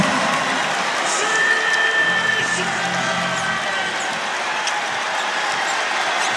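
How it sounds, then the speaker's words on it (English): Home crowd at the FedEx Forum roars during a Memphis versus Ole Miss college basketball game, a loud sustained cheer with a whistle-like tone and arena ambience filling the whole stretch. "Here comes the crowd at the FedEx Forum."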